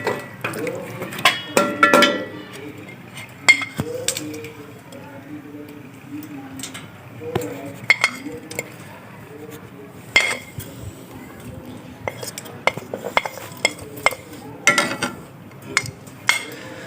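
A spoon scrapes and clinks against a pot while cumin and black pepper are stirred into a mutton curry with potatoes and peas, giving intermittent metallic taps and scrapes, close and fairly quiet.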